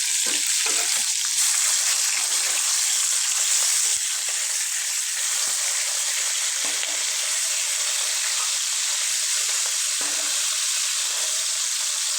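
Fish frying in a pan for a home-cooked Filipino meal, a dense steady sizzle of hot oil that runs loud and unbroken throughout, with no talk.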